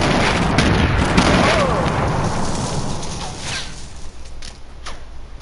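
Bombs go off in a PS4 multiplayer game: a heavy boom opens, followed by a rumbling, decaying blast tail and a few scattered later pops, with no one talking.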